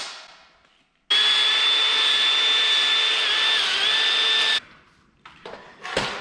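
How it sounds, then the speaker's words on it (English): A power tool whines at a steady high pitch while deburring and dressing drilled holes in a metal car body panel, running loud and close for several seconds before stopping, followed by a few light clanks. "So first I'm just going to clean this bit up, deburr all the holes, dress it, make it look nice."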